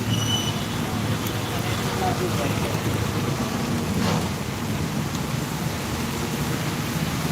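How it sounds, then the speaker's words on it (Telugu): Steady, dense hiss of heavy rain pouring continuously at a fruit stall, with a low rumbling background and no break in the downpour. "వర్షం మళ్ళీ ఎక్కువైతుంది ఇక్కడ"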